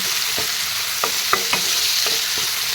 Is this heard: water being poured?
no